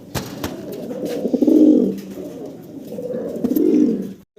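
Pet pigeons coo nearby in two soft, throaty swells, each rising and fading, with a quiet pause between them.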